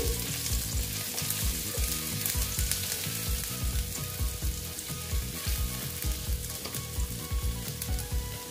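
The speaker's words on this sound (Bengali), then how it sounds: "প্রথমে দিয়ে দিচ্ছি আদা কুচি, দিয়ে একটু ভেজে নিচ্ছি" Chopped ginger fries in a pan with a steady, loud sizzle and crackle, broken by a few scraping stirs across the whole stretch.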